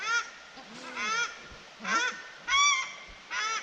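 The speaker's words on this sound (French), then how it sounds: "Oiseau." A bird calls nearby in a series of five short, nasal, honking cries spaced evenly apart, fairly loud against quiet surroundings.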